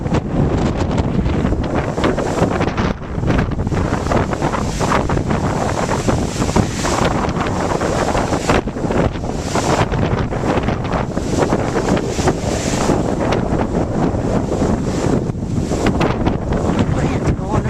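Strong tropical storm wind roars steadily across a microphone on the Anna Maria Island coast near Bradenton, with waves and surf churning underneath, loud and unbroken throughout.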